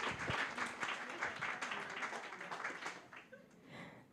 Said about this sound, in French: Donc, on peut l'applaudir, là.